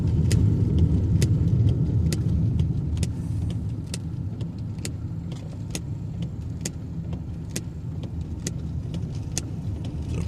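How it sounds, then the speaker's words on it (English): A taxi driving along a road in St Elizabeth, Jamaica, in heavy rain, heard from inside as a steady, close engine and tyre rumble, with sharp rattling clicks scattered throughout and no talking. "Surprised this taxi is not driving any faster."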